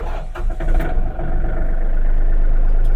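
A Yanmar US-330 mini tractor's diesel engine rumbles loud and close, with a brief dip as it catches, then settles into a steady, even chug.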